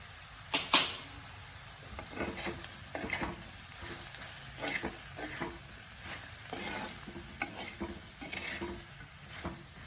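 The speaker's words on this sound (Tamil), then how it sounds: "இந்த வெங்காயம் பூண்டெல்லாம் கொஞ்சம் நம்ம கிளறி விட்டுட்டு அதுக்கப்புறமா நம்ம தேவையான அளவு பெப்பரை போடணும்" Onion, garlic and pepper stir-fry for okra poriyal, a quiet sizzle broken by repeated scraping stirs of a spoon in the pan at uneven intervals, with no talking.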